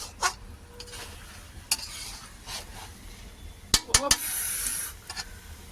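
Food is stirred in a pot over a wood fire, with a soft background sizzle broken by scraping and clattering strikes of a utensil against the pan, a quick cluster of clanks near the end.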